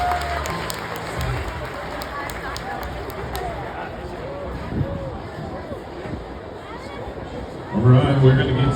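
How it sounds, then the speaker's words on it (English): Crowd in the stands at a county fair rodeo applauds a bull rider, scattered clapping and cheering spread wide and somewhat distant, with an announcer talking over it and a louder rumble near the end. "a big round of applause for our cowboy, Melvin Schlabach tonight."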